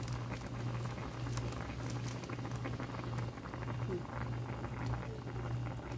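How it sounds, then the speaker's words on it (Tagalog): Salmon belly sinigang broth with vegetables bubbles at a steady rolling boil, a dense, close burble of popping bubbles with an underlying hum running unbroken throughout. "Ayan, kumulo na naman."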